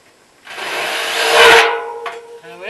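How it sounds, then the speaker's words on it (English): A steady metallic rasping scrape from a hand tool deburring a drilled hole in a washing machine drum, swelling midway, then a short tap and faint rubbing. "To just deburr the inside of the hole, that's to take the sharp edges off the drilling hole."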